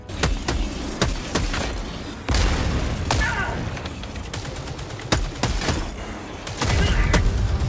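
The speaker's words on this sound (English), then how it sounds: "Warning, you are in range of enemy artillery." Enemy artillery shells and gunfire rattle and boom around a soldier in Helldivers 2, sharp repeated cracks mixed with deeper thuds and rumbling, loud and close throughout.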